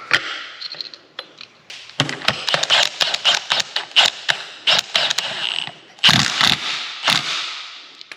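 A ratchet wrench tightens a standard pulley onto a remanufactured alternator on an LT1 Camaro, giving close, loud bursts of rapid mechanical clicking and creaking in uneven runs, with short pauses between strokes.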